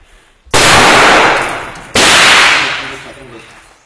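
Rifle shots fired during a special forces firing drill: two loud, sharp cracks about a second and a half apart, each trailing into a long echoing decay outdoors, with no talking over them.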